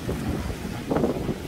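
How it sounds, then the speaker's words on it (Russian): Cold wind at the seaside buffets a microphone in low, rumbling gusts, with a stronger push near the middle of the brief stretch. "Холодный ветерок такой, прохладный."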